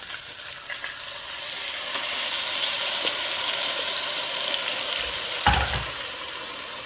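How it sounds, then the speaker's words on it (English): Chipotle sauce hits hot, toasted pork riblets in a pan, setting off a loud, close, continuous sizzle that swells and holds, with a brief clunk of the pan near the end. "Now I'm going to add my sauce."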